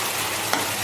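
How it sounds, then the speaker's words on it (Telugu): Prawns get stirred with gongura paste in a pan, a close, loud, even frying hiss with one brief scrape of the spoon partway through. "గోంగూర పేస్ట్ని వేసి బాగా కలపాలి"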